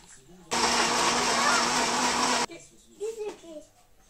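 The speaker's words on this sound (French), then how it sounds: "Je vais mettre tout ça du coup dans mon mixeur maintenant." A blender whirs loudly and steadily for about two seconds, mixing frozen fruit with a drop of syrup into a smoothie, then cuts off abruptly, followed by a brief voice and light handling sounds.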